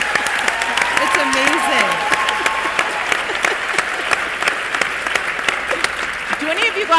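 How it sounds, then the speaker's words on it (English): An audience at a day-long event session gives a loud, sustained round of applause that fills the room, while a presenter speaks briefly over the clapping. "can we give them a huge round of applause?"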